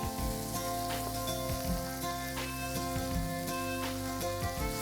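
Finely chopped onion fries with curry leaves and asafoetida for misal, a dense steady sizzle heard up close with a few soft stirring knocks and a faint hum running underneath.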